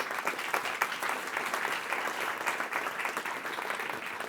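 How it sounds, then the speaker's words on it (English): Audience at a science summit on renewables and sustainable chemistry applauding a speaker, a continuous dense roll of many hands clapping, fairly close and alone without voices. "Let's give her a round of applause."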